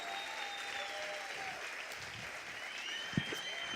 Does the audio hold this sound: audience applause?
yes